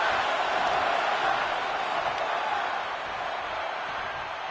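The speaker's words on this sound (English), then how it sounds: "This crowd is thunderous right now." Loud, sustained roar of a wrestling arena crowd cheering in a Smackdown video game, a dense continuous wash of noise that holds steady for the whole stretch with no clear voices standing out.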